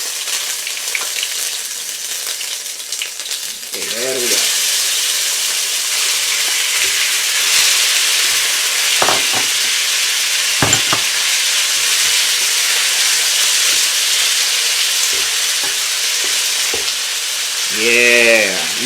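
Beef hits a hot wok with garlic and bursts into a loud, sustained sizzle and hiss, with occasional scrapes and clanks of stirring. Someone speaks briefly over the frying.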